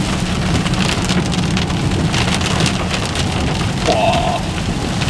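Heavy rain pours down steadily during a thunderstorm, a loud dense hiss of drops drumming on surfaces with no pauses, and a faint rumble of thunder beneath it.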